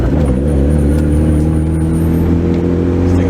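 A Honda Prelude drives along, its engine humming steadily with a loud, continuous low drone close to the car, with no talk.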